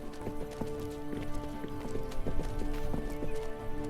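Hooves clip-clop in a quick, uneven rhythm while a horse whinnies, set against a steady tonal hum in the background, in the video game 1428: Shadows over Silesia.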